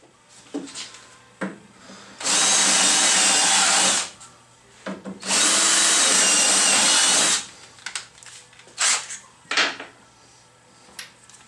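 A power drill runs in two loud, sustained bursts of about two seconds each while a bit bores into a workpiece. Brief clicks and handling knocks fall between and after the bursts, and no one speaks.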